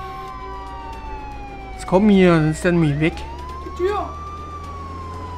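Police siren in the video game Contraband Police, a sustained wail running under someone talking loudly in German, the siren steadily present throughout.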